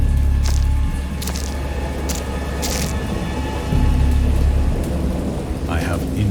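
A heavy thunderstorm rolls through a horror game scene, with steady driving rain, a low rumbling thunder bed and several sharp cracks standing out, loud and close throughout.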